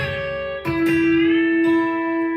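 Electric guitar with a B-bender engaged, several strings ringing together in a sustained chord, a couple of fresh picked attacks, alone and fairly loud.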